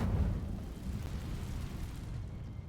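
Incendio fire spell cast in Hogwarts Legacy, a loud, low whooshing burst of flame that starts strong and rolls on as a steady roar for a few seconds, with no talking.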